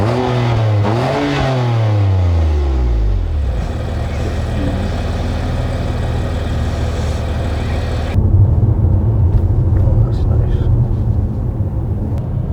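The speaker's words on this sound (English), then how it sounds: "we're taking the BMW M2 Competition for a quick road test" A 2025 BMW M2 Competition sports car engine accelerating on a road test, loud close revving that climbs through several gear changes and then drops into a sustained roar, with a voice talking over it.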